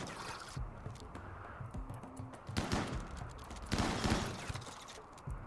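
Gunfire in RimWorld comes as scattered sharp bursts and a couple of louder volleys, fairly quiet overall, over a faint game background without talk.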